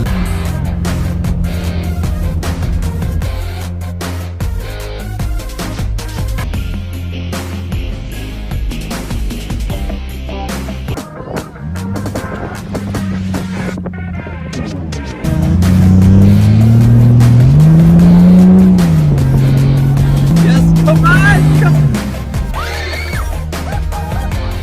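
A Jeep Cherokee XJ works across the Silver Lake Sand Dunes, its engine droning loud and steady, then surging into a strained high rev before settling back.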